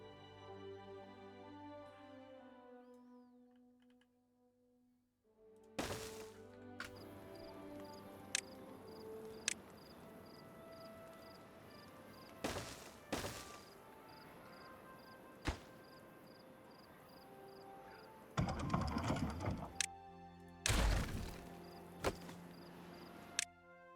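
Buildings being demolished in the city-building game Timberborn: scattered game thunks and chops over a steady in-game ambience, with a quiet stretch early and denser, louder bursts toward the end.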